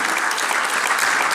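Dense, even clapping rises from the audience at a folk ensemble's 43rd anniversary concert, heard as a brief, loud, continuous patter.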